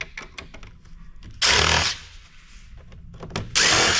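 A power drill with a Phillips bit backing screws out of a point of sale system being scrapped, two loud short whirring bursts separated by quieter handling clatter.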